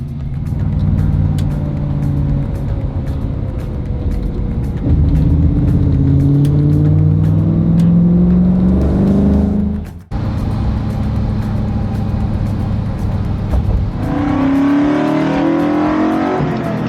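A 1969 Ford Mustang Mach 1 being driven on an expressway, its engine droning loudly and steadily with a rising rev, a brief lift-off and dip in the middle, then pulling again through the gears.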